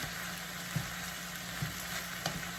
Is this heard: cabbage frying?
yes